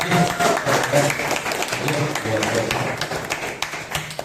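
Students applauding in a classroom, a burst of clapping that tapers into scattered claps and taps, with voices talking over it.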